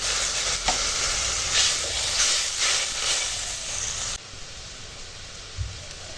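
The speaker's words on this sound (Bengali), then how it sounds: "সর্ষের সঙ্গে আমটা বেশ খানিক্ষণ ভেজে নিয়েছি এখন দিয়ে দেবো জল" Water poured into a hot pan of mango fried in oil with mustard seeds sets off a loud, steady hiss of steam that cuts off abruptly, leaving a quieter simmer afterward; no talking.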